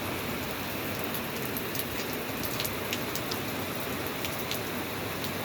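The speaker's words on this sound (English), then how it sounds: "I like rain." Steady rain falls and patters on a nearby surface, a dense continuous hiss with scattered sharper drips, close and even throughout with no voices.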